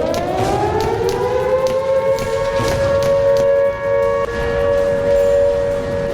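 A loud civil defense siren in Khyber Pakhtunkhwa, Pakistan, wails on a sustained, slowly wavering tone, heard alone and fairly close.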